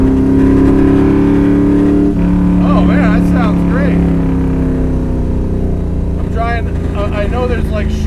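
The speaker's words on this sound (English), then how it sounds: "it runs really nice and smooth. Engine feels great." Steady V8 engine note of a 1967 Ford Fairlane with a rebuilt short block, running smoothly while the car drives, loud and continuous with a low rumble throughout, while people talk over it.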